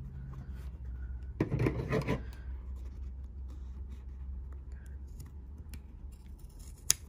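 Scissors snip through folding paper for a Scandinavian folded star, a short burst of crisp cutting and rustling up close, then quiet handling of paper with a faint steady background hum.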